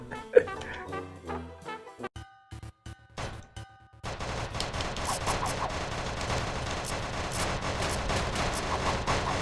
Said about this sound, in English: Yeah, that's fish being shot.